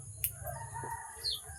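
Faint, scattered clucks from chickens at a distance, a few short calls over low background noise.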